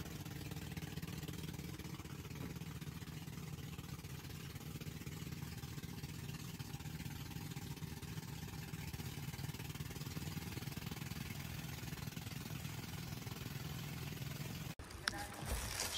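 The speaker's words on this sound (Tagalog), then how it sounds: "yung tunog ng boat o tunog ng makina." A tour boat's three engines drone steadily on the water near Siargao, a low, even rumble that runs unbroken before a brief knock near the end.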